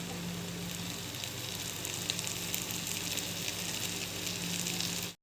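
Mushrooms frying in a covered pan over a very low flame give a steady, soft sizzle and crackle that holds evenly throughout, close up, before cutting off abruptly at the end.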